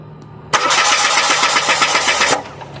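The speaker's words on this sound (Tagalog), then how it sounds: "Sumandar na ang sasakyan ng ating kaibigan." A Mitsubishi Mirage G4 sedan, just fitted with a replacement fuel pump motor, cranks loudly and close by with a rapid rhythmic churn for about two seconds, then the engine catches and settles into a quieter idle.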